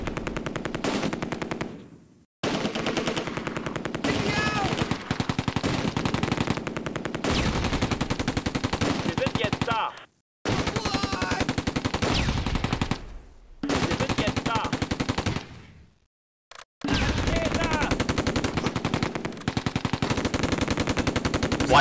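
Machine gun fire in the Close Combat: A Bridge Too Far wargame, long sustained bursts of rapid rattling shots with brief pauses between them, loud and dense, with faint talk in places.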